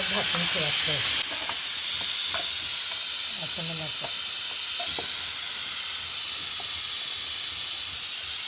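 Puran poli cooking with oil on a village griddle, a loud steady hiss and sizzle throughout, with brief scraping and tapping sounds from handling it near the start.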